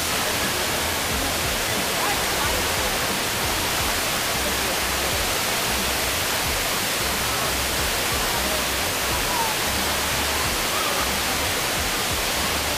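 An indoor waterfall in the middle of Singapore airport makes a loud, unbroken roar of falling water, dense and even throughout, filling the space with steady rushing noise.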